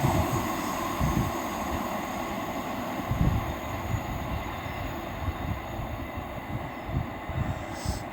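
A train rolls past at Ashchurch for Tewkesbury station with a steady rumbling roar of wheels on rails and rhythmic clacks from the passing wagons, loud and close throughout.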